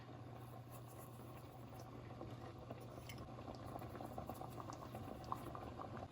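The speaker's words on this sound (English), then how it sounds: "I'm probably going to let that simmer for a couple of hours." Spaghetti sauce simmers in a pot, a soft, steady bubbling and popping heard close but quiet, with small irregular blips throughout and no voices.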